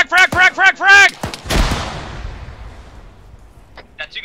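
A grenade detonates with a deep booming blast in ArmA 3 military gameplay, followed by a long fading rumble. Shouting voices come just before it, and faint gunfire and chatter sound at the end.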